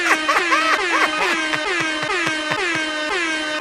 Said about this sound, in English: How many air horns should we go on the way in?